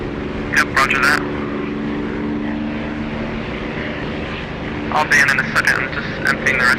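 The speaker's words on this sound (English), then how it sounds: "If you get the Echo 19 Spitfire engine sound, you'll really notice a lovely difference" A Spitfire's propeller engine drones steadily in the DCS flight simulator, a continuous low hum running throughout beneath bursts of radio chatter and spoken voice at the start and end.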